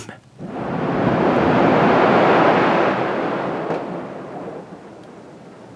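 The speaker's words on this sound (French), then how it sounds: "En bonus, voici le bruit de la neige du toit qui tombe." Snow slides off a workshop roof and falls in a heavy, rushing whoosh that builds over about a second, holds as a broad roar, then slowly fades, close and alone.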